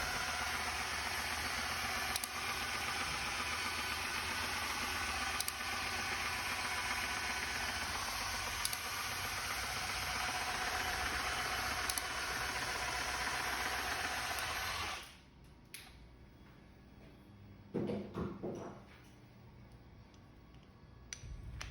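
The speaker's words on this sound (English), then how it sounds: "Use a variable speed drill at 400 RPM maximum and the adapter piece to drive the gearbox." A variable speed drill at up to 400 RPM drives the gearbox of a Ripley UtilityTool RMS tree wire and spacer cable stripper as it peels insulation from cable: a steady whirring with faint regular ticks for about fifteen seconds, then it stops and a few brief clunks follow.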